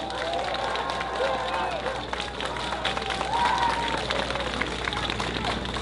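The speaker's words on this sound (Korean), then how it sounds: "크게 박수를 보내주시기를 바랍니다" An outdoor crowd at a People Power Party campaign rally in Nampo-dong, Busan claps and cheers steadily, a dense, continuous wash of applause with voices mixed in.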